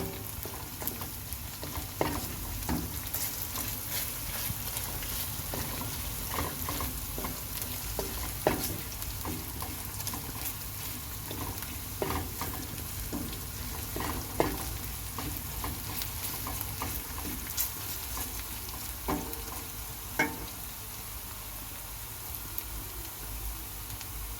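Tomato paste and chili flakes sautéing in a pan, a steady crackling sizzle dotted with frequent sharp pops and scattered spatula scrapes, continuous and fairly close throughout, with no voices.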